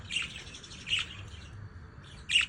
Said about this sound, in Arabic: شوفوا العصافير